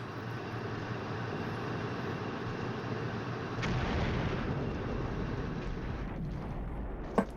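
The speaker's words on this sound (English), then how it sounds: "More enemy artillery fire right there." Artillery fire rumbles in the wargame Flashpoint Campaigns Southern Storm as a sustained low, booming roar, with heavier impacts midway and a sharp crack near the end.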